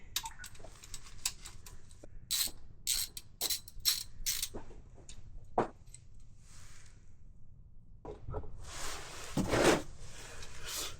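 Ratchet loosening the axle fluid plug on a RAM 1500 pickup, quick bursts of close metallic clicking in short runs with pauses, then a louder rustling clatter near the end.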